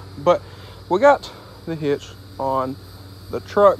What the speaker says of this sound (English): the louder the cicadas are